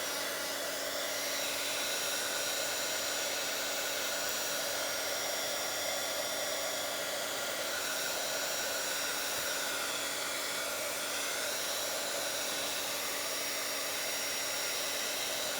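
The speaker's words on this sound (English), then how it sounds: "let me just hit it with the dry gun one more time" A heat gun blows steadily over a thick, layered mixed media art journal page, a continuous even whirring hiss of air with a faint tonal hum, close and unbroken throughout.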